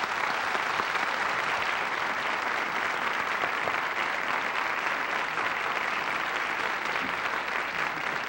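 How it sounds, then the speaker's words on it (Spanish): A studio audience on a Chilean television programme gives a guest steady, dense applause, sustained and fairly close for the whole stretch with no voices standing out. "Un aplauso para él."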